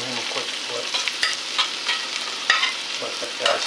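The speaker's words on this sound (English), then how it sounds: "And you still have the sizzle." Steak and peppers sizzling loudly in a hot pan, a steady crackling hiss with occasional sharp pops and scraping stirs.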